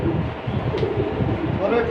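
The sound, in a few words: pigeons cooing in a loft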